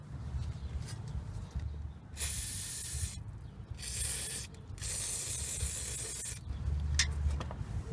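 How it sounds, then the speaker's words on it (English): Penetrating spray from an aerosol can is sprayed onto the outer tie rod end jam nut of a 2003 Mitsubishi Lancer ES in three close, sharp hissing bursts of about a second each, separated by short pauses. "I'm going to take my penetrate spray and spray that nut."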